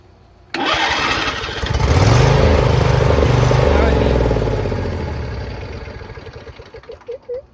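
A neglected John Deere tractor with a dead battery cranks over on a jump pack, its starter turning the engine quickly and loudly for several seconds in a steady churning rhythm before slowing and trailing off into a few sputters.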